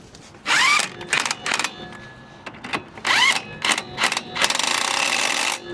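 An impact gun on a Honda Element front end tightening an axle nut: loud, close, rattling bursts, two longer runs of hammering and several short blips between them, with no talk.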